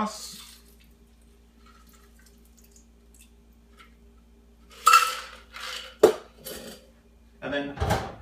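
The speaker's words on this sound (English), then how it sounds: "Pour into the glass." Shaken rum cocktail with bitters poured from a shaker into a glass, heard as a few close clinks and splashy bursts of ice and liquid after a quiet stretch.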